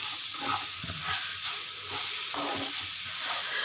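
Coccinia (kundru) pieces coated in masala are stirred in a frying pan, with a steady close sizzle of frying under soft scraping strokes across the pan, continuous for several seconds.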